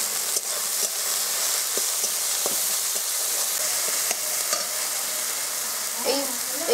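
Onions and tomatoes sizzle in oil over a high flame, a steady frying hiss broken by sharp spatula knocks and scrapes against the pan, with a short clatter near the end.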